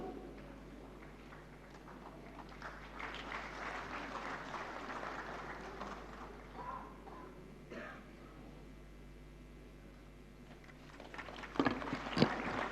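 Audience applause at the 68th National Film Awards ceremony, a steady moderate clapping that sustains throughout, with a sharper burst of louder claps near the end.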